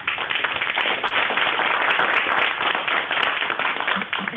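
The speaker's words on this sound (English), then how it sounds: "they're clapping for you" Audience clapping for a presenter at a talk on nature-based adaptation, a steady dense patter of many hands sustained throughout at moderate level with no voices over it.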